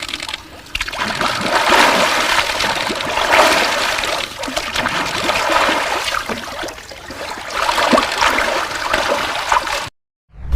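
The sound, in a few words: splashing in icy cold water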